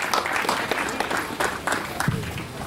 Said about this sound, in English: Let's make a big round of applause for Alex Candelario, third place today here at the SuperCup.